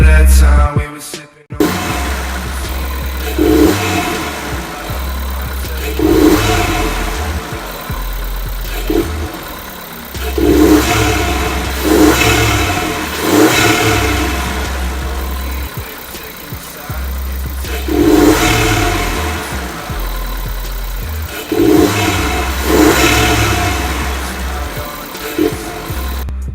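A Volkswagen Polo 6C with a TSI engine and a Tweek aftermarket air filter is driving on the road, heard from inside. The engine drones steadily and repeatedly swells and falls as it revs through the gears, with no one talking.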